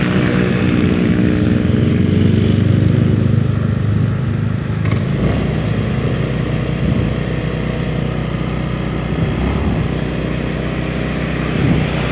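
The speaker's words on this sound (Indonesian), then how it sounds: "Motor lama banget sih lewatnya." A loud engine drones steadily throughout, with a low rumbling tone that shifts slightly midway as a motorcycle passes close by on the road at night.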